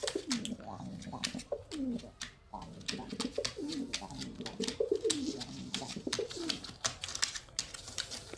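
Frillback pigeons coo in low, rolling, repeated phrases, close by and steady across the whole stretch, with faint scratchy clicks and light tapping noises mixed in around them.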